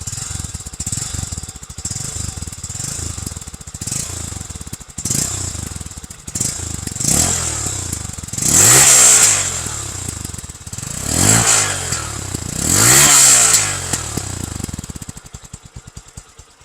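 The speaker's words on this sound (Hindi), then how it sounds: "इस मोटरसाइकिल का साउंड नोट" A United US150 motorcycle engine idles with a muffled, thumping stock exhaust note, then revs up twice in rising and falling swells before settling back to idle.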